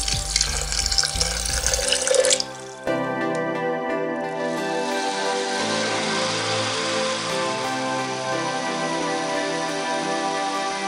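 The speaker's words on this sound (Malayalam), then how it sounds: "ഇതിലേക്ക് അരയാൻ ആവശ്യത്തിനുള്ള വെള്ളം ഒഴിച്ചു കൊടുക്കാം." Water poured from a tap or jug into a blender jar holding fennel seeds and sugar, a steady splashing stream that shifts pitch as the jar fills, close and loud with no talk.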